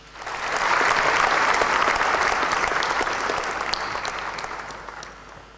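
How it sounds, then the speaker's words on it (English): Sustained audience applause at an awards evening, a dense wash of many hands clapping that swells quickly, holds steady and loud, then tapers off near the end. "Please give him a big hand of applause"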